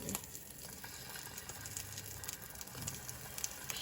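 Soft, steady sizzling of tomatoes frying in butter in a pan, a faint crackling hiss with occasional light taps, no voices.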